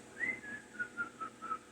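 A person imitates nervous whistling with a short series of high falling whistled notes, about six in a row, fairly close and clear with no talking.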